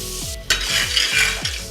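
Butter sizzling in a hot kadai while broccoli soup is started, a steady broadband frying hiss close by with a few sharp spatters and utensil scrapes, no talking.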